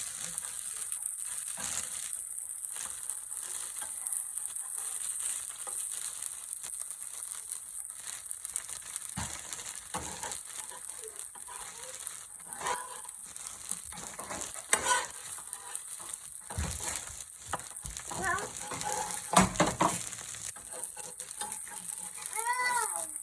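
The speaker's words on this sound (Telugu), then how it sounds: "ఒక స్పూన్ ఆయిల్ పోసుకొని 2 మినిట్స్ సిమ్లో పెట్టి ఉడికించుకోవాలి" Wheat flour dosa cooking in a spoonful of oil over a low flame, a steady soft sizzle with intermittent crackles and scraping of a spatula throughout, no talking.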